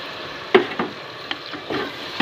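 Chicken frying in a pan as a yogurt mixture is added, a few short sizzling bursts and stirring scrapes, close and fairly loud, with no talking.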